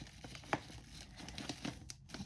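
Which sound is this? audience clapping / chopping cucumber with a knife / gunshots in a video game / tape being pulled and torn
tape being pulled and torn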